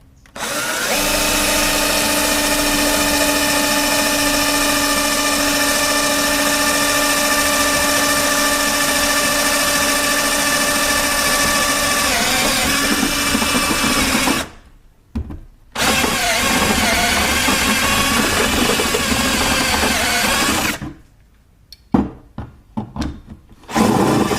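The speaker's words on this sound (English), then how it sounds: "So let's drill some more holes." A power drill whines steadily for long stretches, drilling holes while fabricating a transmission cooler and fan mount for a 5.0 Mustang, with a couple of short pauses and brief restarts near the end.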